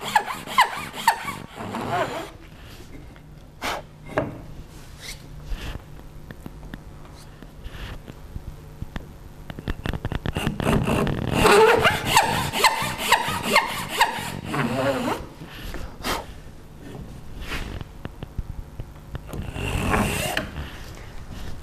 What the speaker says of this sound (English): place the heel of the saw in the line, pull it back gently to establish the curve